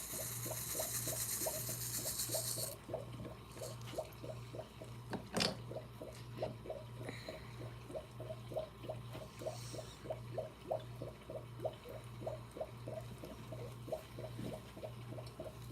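Liquid pours through a funnel while finishing a Farnus kit, a soft continuous trickle with faint regular ticking and gurgles, quiet and close, without talking.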